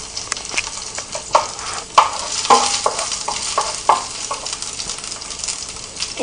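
Chicken wing lollipops fry in oil with a bright steady sizzle, broken by repeated clanking stirs of a utensil against the pan at irregular intervals.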